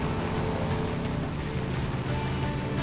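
Motorcycle engine in the Days Gone video game, a continuous loud droning rumble that holds steady throughout, with no talk over it.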